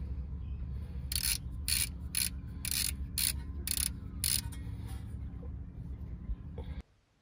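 A ratchet tightens the 12mm caliper cover bolt on a 2007 Honda Civic LX sedan during a front brake pad job, a run of seven sharp clicking strokes at a steady rhythm over a low hum, close to the ear.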